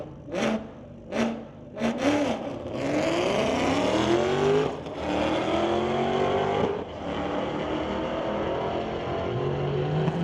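Two street-legal cars, a 2016 Mustang and a 2018 Camaro, drag race side by side at a strip. Engines rev hard as they launch, then one long, loud, sustained roar with rising tones as they pull away.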